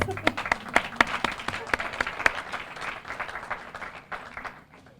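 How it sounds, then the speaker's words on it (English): An audience at a Remarkable Grads 2016 event claps for a keynote speaker. Distinct individual claps stand out near and sharp, then thin gradually toward the end, with faint voices underneath. "let's give her a round of applause"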